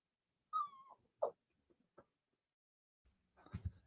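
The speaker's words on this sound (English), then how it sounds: "Is that a little doggy crying by your side?" Small dog whimpering indoors, a faint high whine followed by a couple of short yelps, then quiet, with soft shuffling near the end.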